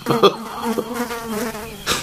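A fly buzzes close and steady as a sound effect, its wavering drone rising and falling for about two seconds.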